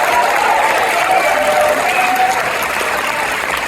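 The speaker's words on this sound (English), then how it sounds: "one more round of applause for our mallet players back there" Steady applause from a school band concert audience, a dense wash of clapping that holds at an even, loud level throughout with a faint murmur beneath it.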